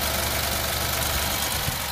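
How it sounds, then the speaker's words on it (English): A 2017 Alfa Romeo Giulia Quadrifoglio's 2.9-liter V6 idles steadily up close, a dense even hum carrying a faint fast tick from the direct injection. "under the hood, a ticking is the direct injection"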